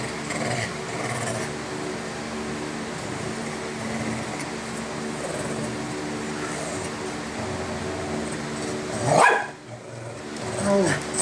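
A dog barks a few times near the end, sharp and close, after a stretch of steady background noise with faint voices and some car-like hum.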